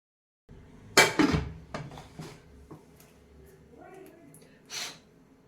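A metal dish holding milk clanks down inside a pressure cooker with a sharp clatter, followed by a few lighter knocks and scrapes, then a brief soft rustle.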